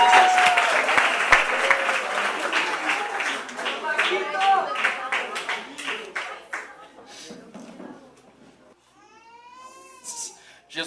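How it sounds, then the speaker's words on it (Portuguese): A church congregation bursts into lively clapping that gradually thins out and fades, with voices and a high vocal sound rising over the dwindling applause near the end. "Palmas para Jesus."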